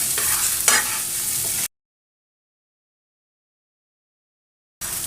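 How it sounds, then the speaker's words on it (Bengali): Radish and shrimp fry on a high flame in Bengali home cooking, giving a loud, steady sizzle with stirring scrapes for under two seconds, then silence before the sizzle briefly returns. "হাই ফ্লেমে রেখে আরও 1 মিনিট ভেজে নেব, তারপর নামিয়ে দেব।"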